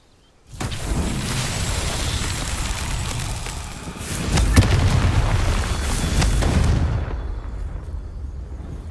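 A Bombarda explosion spell goes off in Hogwarts Legacy, a loud booming blast that rumbles on for several seconds, swelling into a second heavy burst midway before dropping away, with no talk over it.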